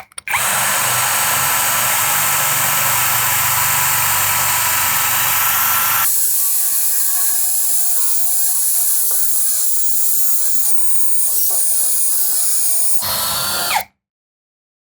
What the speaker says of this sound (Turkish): Uç böyle kötü bir uç olduğu için öyle kolay delmiyor